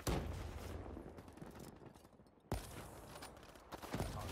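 Shots in a shooter video game, including sniper fire, come as faint, sharp cracks with a rumbling tail, one clear burst midway and another near the end over low background noise.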